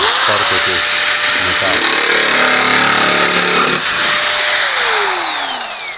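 A loud, steady whine from a Parkside sheet metal cutter cuts continuously through sheet metal, with rising and falling tones and a voice talking over it near the start.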